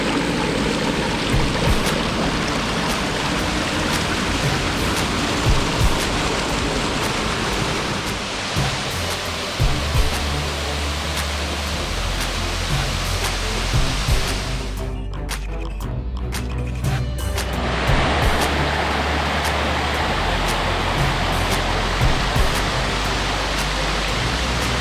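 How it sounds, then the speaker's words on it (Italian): The Cornolade waterfalls near Belluno roar with a steady, loud broadband rush of falling water throughout, briefly dipping in the middle before the continuous wash resumes. "adesso siamo alle cascate di"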